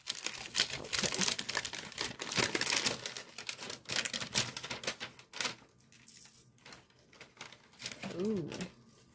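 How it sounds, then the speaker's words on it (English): Christmas gift wrapping paper tears and crinkles in repeated bursts close to the listener, with a person talking over parts of it. "Oh man, I gotta get my hands on that paper. This wrapping paper."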